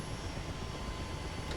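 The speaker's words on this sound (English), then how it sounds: "I'm in an overweight helicopter" Mi-8 helicopter in the DCS flight simulator hovering while overweight at 106% of maximum takeoff weight, with full fuel and dust protection fitted: a steady, dense rotor and engine drone that stays constant throughout, with no talk.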